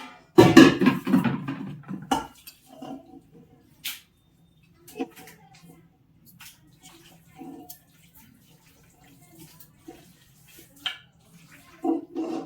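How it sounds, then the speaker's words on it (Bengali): Water poured into a pressure cooker holding spiced chicken for curry, a loud gushing splash at the start that fades into scattered drips, clinks and light kitchen handling. "আমি জল দিয়ে দেবো, পরিমাণ মতো জল দিয়ে দেবো।"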